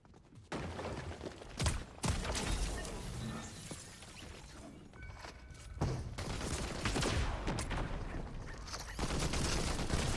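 Game gunfire in Fortnite: a dense, loud run of blasts and crashing impacts with sharp onsets near 2 s and 6 s, overlapping mechanical clatter throughout and no talk.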